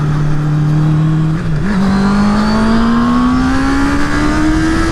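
A Honda Hornet 650 motorcycle engine revs hard up close, its loud tone dipping briefly then climbing steadily in pitch as it pulls through the rev range.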